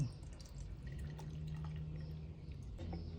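Thai tea steeped in hot water drips and trickles from a squeezed tea bag, a faint, close, steady liquid patter with no talking.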